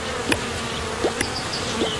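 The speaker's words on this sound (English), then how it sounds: "he saw the bee's nest with the bees bzzz, buzzing all around" Bees buzzing around a nest, a steady insect hum with a few brief rising buzzes as individual bees pass close, heard without any talking.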